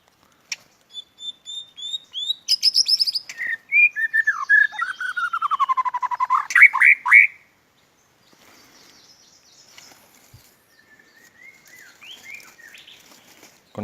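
A white-rumped shama, a trapped wild bird in Vietnam, sings a rapid run of clear whistled and chattering notes for several seconds, then falls to softer, scattered calls amid near silence.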